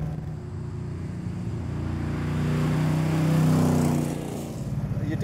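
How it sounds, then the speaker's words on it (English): A deep engine of a 1971 De Tomaso Pantera hums and swells as it revs up, holding a throaty drone before easing back, heard close from inside the car. "You definitely hear you coming in this car."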